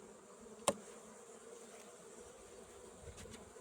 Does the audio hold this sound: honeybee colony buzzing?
yes